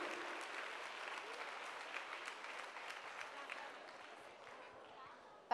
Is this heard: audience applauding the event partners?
yes